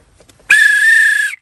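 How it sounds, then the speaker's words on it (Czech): Replica Titanic steam whistle, blown once in a single shrill, sustained blast of just under a second that cuts off cleanly, close and loud. "Takže mám píšťalku i s tím zvukem, měla být jako z toho i filmu, ale i z opravdu i Titanicu."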